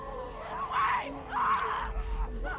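A woman's distant screams, two long wailing cries in a row followed by a shorter one, faint under a low background rumble.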